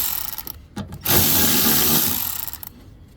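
Milwaukee 12-volt cordless power ratchet tightening a fastener while replacing batteries on a 2008 Chevrolet Silverado 2500: a few brief clicks, then a loud, close, steady motor whir lasting about two seconds that fades at the end.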